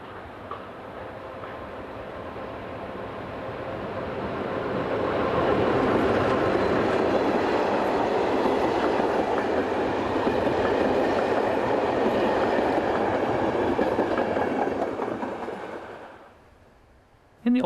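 Electric locomotive 242-280 departs with a passenger train at Klumek, a broad rolling rumble with faint wheel clatter that builds over several seconds, holds steady, then fades quickly near the end.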